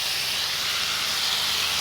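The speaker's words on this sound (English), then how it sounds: "You can hear it sizzling up there." A steady, loud hiss of vinegar sizzling in a hot pan at a campsite, continuous and close with no pauses or voices.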